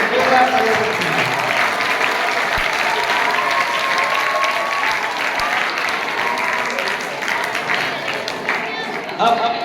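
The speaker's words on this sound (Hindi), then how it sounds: "एक जोरदार तालियां बजती हैं।" Sustained applause from the audience at a Haryana state teacher award felicitation ceremony, steady and full throughout, with a few louder claps and some voices mixed in toward the end.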